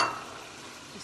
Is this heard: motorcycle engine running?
no